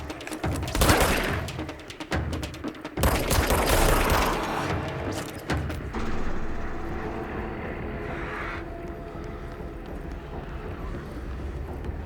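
Gunfire in the action game Control: dense bursts of loud shots with heavy impacts in the first half, giving way to a lingering rumbling ambience with scattered debris.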